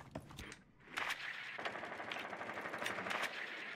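Automatic gunfire in a multiplayer PC shooter, rapid sustained bursts of shots after a brief pause, dense and fairly loud, with no talk over it.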